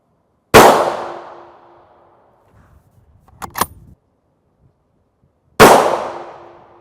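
Two loud, sharp .308 rifle reports, P80 and M80A1 rounds fired from a 22-inch barrel into armor plate, each with a ringing decay, spaced about five seconds apart, with faint metallic clinks between them.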